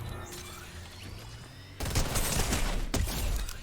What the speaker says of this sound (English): when you release, it automatically shoots like that